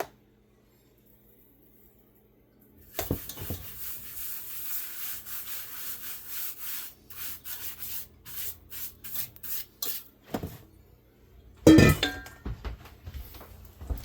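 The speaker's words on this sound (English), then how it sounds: "I put plastic wrap on the cutting board to help me roll this up and keep from tearing the dough." Pizza dough is rolled out on plastic wrap laid over a cutting board, producing close, rhythmic rubbing and crinkling strokes in repeated bursts, with a louder rustling flurry near the end.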